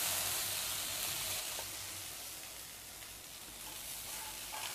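Okra (bhindi) frying in a pan, a steady, soft, hissing sizzle that continues without a break throughout, with no voices.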